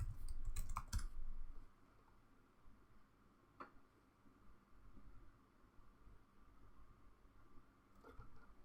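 Computer keyboard typing while entering a password, a quick burst of close key clicks at the start, then a few isolated taps over quiet room noise.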